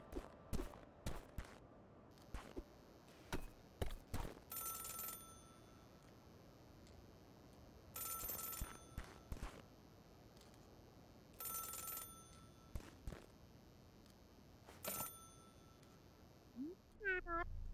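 An old-style telephone rings in the platformer game Celeste, sounding in four bright bursts spaced roughly three to four seconds apart, with sharp clicky game effects scattered in between.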